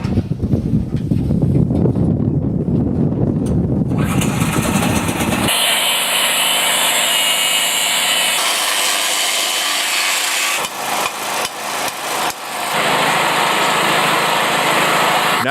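Sawing through metal parts for a Uralchik motorcycle build with a Toyota Vista engine, loud rapid back-and-forth rasping strokes, shifting in pitch and texture as the cut progresses, with a tool whine in the later section.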